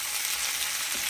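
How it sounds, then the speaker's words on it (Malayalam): Onion chicken fries in oil in a large non-stick pan, giving a steady, close hiss and crackle of sizzling with no talk over it. "അപ്പോൾ ഇതൊന്ന് വറുത്തെടുക്കട്ടെ കേട്ടോ"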